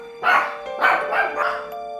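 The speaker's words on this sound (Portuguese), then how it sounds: "Acho que agora os cachorros pararam" Several dogs bark in short bursts, about four or five barks in loose succession at moderate distance over a faint steady background hum, with no talking.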